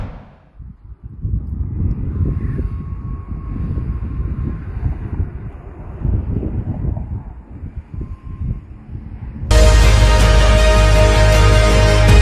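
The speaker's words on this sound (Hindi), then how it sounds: "लेबनान के इलाके में अभी भी लगातार इजराइल के फाइटर जेट उड़ते हुए नजर आ रहे हैं" Fighter jets over Lebanon give a low, steady, distant rumble mixed with gusty wind noise for several seconds, then a much louder sound cuts in abruptly near the end.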